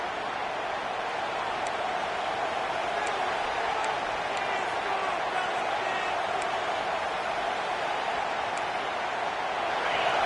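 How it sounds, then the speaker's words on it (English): A roaring stadium crowd fills a college football game with a steady, dense wash of noise. It stays loud and unbroken throughout, and faint whistles or shouts poke through now and then. "listen to this crowd noise. This stadium is vibrating"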